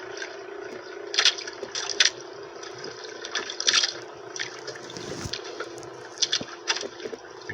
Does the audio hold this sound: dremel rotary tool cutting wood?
no